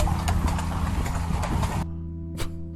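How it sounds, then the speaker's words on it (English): Horses walk along with hooves clip-clopping in a dense, busy rhythm and loud, close noise all around them. It cuts off abruptly near the end and leaves a low hum with one more faint knock. "Just a bunch of black dudes riding horses."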